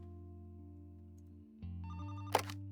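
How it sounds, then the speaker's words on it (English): A telephone in the detective video game The Roottrees Are Dead rings with a steady electronic tone over a soft synth background, followed by a brief click, with no talk. "Oh, phone's ringing."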